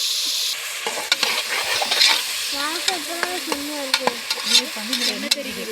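Onions fry in sesame oil with whole spices such as cinnamon, cardamom, cloves and fennel, a close sizzle broken by repeated sharp scrapes and clinks of a spoon stirring against the pan, with a few brief squeaky tones in the middle.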